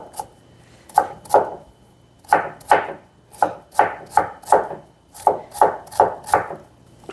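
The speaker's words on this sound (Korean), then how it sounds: "가능하면 조금 이 정도 다져 주시면 되고요. 당근 이 정도만 넣겠습니다." A knife finely mincing carrot on a cutting board, sharp rhythmic chops in quick bursts of two or three, close and clear with no talking.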